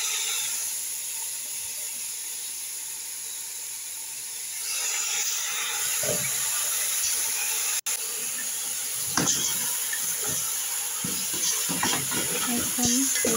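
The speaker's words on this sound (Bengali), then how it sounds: "এখন গোস্তগুলো ভালো করে নেড়ে দিব।" Goat meat, including leg and tripe pieces, being stirred in a pot as it cooks, a constant steamy hiss and sizzle with repeated scraping and clattering strokes of the spoon through the second half.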